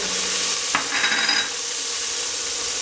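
Minced garlic hits a pot for pinto beans with a steady, close hiss of sizzling, then one sharp scrape and a brief swell as it is stirred in.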